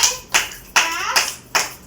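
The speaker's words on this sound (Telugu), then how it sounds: "ఒకసారి క్లాప్స్ కొట్టండి" Children clap indoors in several sharp, close bursts spaced about every 0.4 seconds, each clap ringing briefly before the next.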